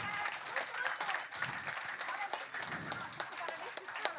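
A crowd applauds with steady, close clapping that carries on throughout without a break.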